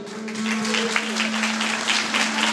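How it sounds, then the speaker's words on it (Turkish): Seated guests at a wedding clap together in dense, sustained applause, with a steady held musical tone running underneath the clapping the whole time. "Bir de şöyle oturanlardan bir alkış istiyorum."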